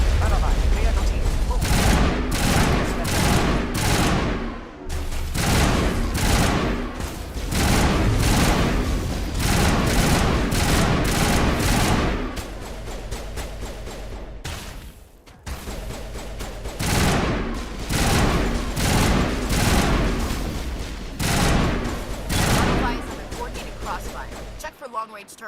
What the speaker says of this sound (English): Long-range turrets helping the Geth target.